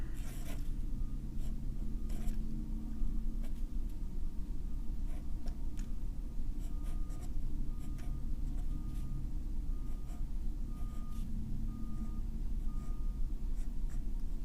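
Pen writing and drawing on paper, quiet scratchy strokes coming in short irregular bursts over a soft background hum, close up and faint.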